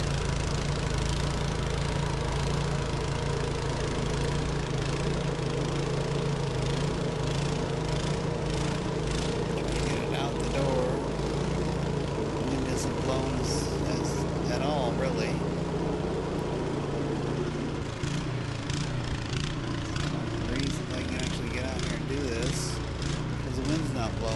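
A snowblower's small engine runs close by at a steady idle with a rough, knocking mid-pitched chug, and a voice talks intermittently over it.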